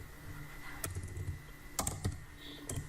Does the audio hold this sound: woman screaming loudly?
no